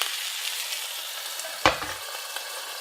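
A steak being shifted around a hot pan gives a quiet, steady frying hiss, broken near the middle by one sharp, loud burst of sizzle.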